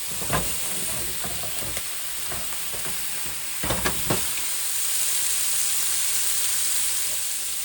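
Venison tenderloins sear in a hot pan with butter, thyme and spice, giving a steady close sizzle and hiss with a few sharper spatters and crackles partway through.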